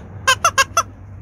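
Four quick, high squeaks come from a rubber toy chicken being squeezed, close and sharp with short gaps between them, over faint background hum.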